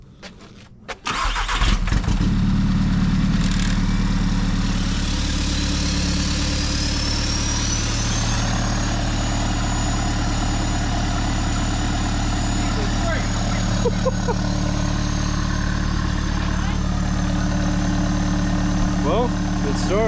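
A Panzerwagen vehicle, suspected of flywheel failure, cranks and starts, then idles steadily with a loud, rumbling engine drone that continues to the end.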